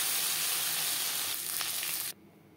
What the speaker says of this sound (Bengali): একইভাবে ভেজে দেব।